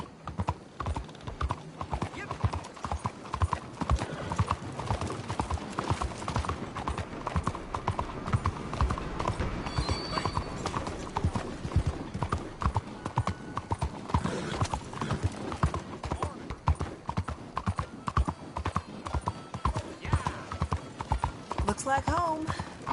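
Horse hooves clip-clop steadily through a Red Dead Redemption 2 ride, the rhythmic beats running the whole way under game voices and ambient noise.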